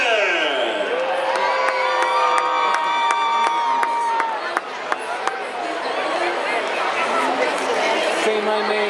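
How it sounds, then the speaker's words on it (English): Baseball stadium crowd at a Lake Elsinore Storm minor-league game cheers, whoops and claps steadily throughout, a loud dense roar with sharp hand claps and a voice over the public address system. "Clap those hands for Stephen Carman."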